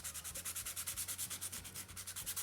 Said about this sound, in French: on va venir limer tout ça, tout le contour